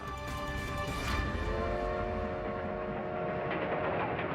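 A train rolling on rails, accompanying a royal tour in South Africa, a steady rumble with faint rhythmic clatter and a brief whistle-like tone near the start, fairly distant and continuous with no talk.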